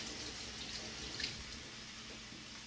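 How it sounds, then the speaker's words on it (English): Water runs from a tap into a sink while hands are washed, a faint, steady splashing rush close by with no speech. "I'm gonna turn the water on."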